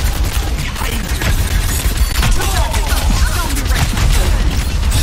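Overwatch 2 gunfire crackles and bursts continuously through a busy team fight, dense and loud with overlapping shots and impacts.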